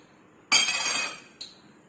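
A bowl and a bottle cap press through donut dough onto a hard surface, giving a bright clinking knock that rings for about half a second, then a second, lighter tap, close by.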